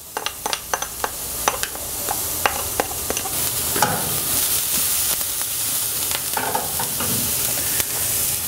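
Onion and garlic fry in a pan with a steady hiss, cut through by sharp clicks and scrapes of stirring, loud and close, with no talk.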